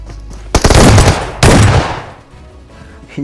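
Two loud bursts of rapid automatic gunfire in the PUBG Mobile battle royale game during a shotgun challenge match, each lasting close to a second, then fading into quieter game ambience.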